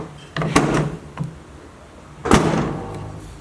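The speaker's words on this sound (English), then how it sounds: "that's the sound of the actuator doing its thing" Two sharp mechanical clunks from a 2014 Chevrolet Silverado tailgate lock actuator, with a fainter click between them, fairly close and otherwise quiet.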